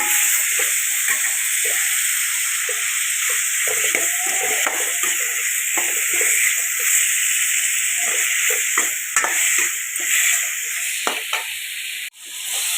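Ingredients sauté with salt in a pan for a fish curry, giving a continuous close sizzle with faint stirring scrapes and no talking. A sharp clatter comes near the end.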